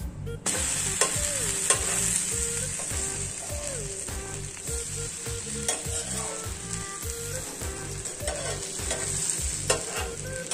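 A bread omelette fries in a pan with a steady, close sizzle, broken by repeated scraping and stirring clatter and a few short squeaky tones from the utensil.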